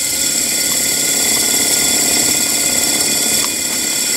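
A model dynamo with an open stator runs in reverse for a steam engine setup, giving a loud, steady mechanical whir and buzz throughout with no pauses and no talking.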